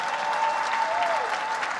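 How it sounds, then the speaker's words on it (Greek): An audience at a presentation of the SNFestival 2019 program breaks into dense, sustained applause, a steady wash of clapping that fills the room without pause. "Παρακαλώ, ένα χειροκρότημα."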